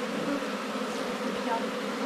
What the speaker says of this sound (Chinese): 有好多那个蜜蜂在我面前飞